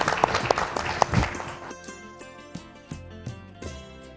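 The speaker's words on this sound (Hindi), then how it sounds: "जोरदार तालियों के साथ गुप्ता जी।" An audience claps to welcome a guest at a family storytelling event, loud at first and then dying down to scattered, fainter claps.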